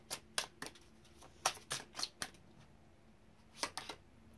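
Tarot cards being shuffled by hand, a string of soft, crisp riffling bursts in irregular clusters with short pauses between them, close and quiet with no talking.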